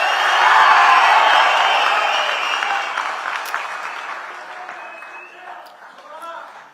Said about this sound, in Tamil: இன்னமும் ஒரு கூச்சல் சத்தம் அடங்கின மாதிரியே எனக்கு தெரியல.